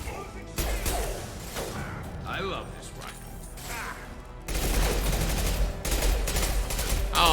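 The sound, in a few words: rifle gunfire in the video game Mass Effect 2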